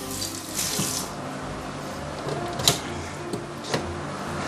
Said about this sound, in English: I'm going to add some hot water here.